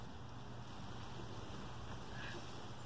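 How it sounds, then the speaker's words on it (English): Wind blows steadily against a small dollar-store tent pitched outdoors, a constant broadband rush and buffet that fills the whole stretch without pause. "right now the wind is blowing this"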